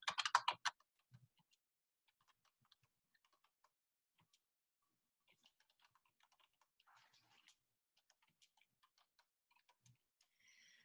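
Typing on a computer keyboard: a quick burst of close, crisp keystrokes at the start, then sparse, faint scattered taps and clicks across an otherwise quiet room.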